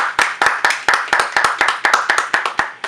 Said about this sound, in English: Let's go ahead and clap it up, people.